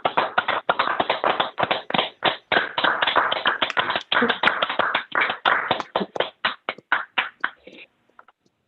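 Committee members clap together over an online grant committee meeting call, many unmuted hands producing dense, choppy claps with sharp dropouts as microphones cut in and out, thinning to scattered claps before stopping.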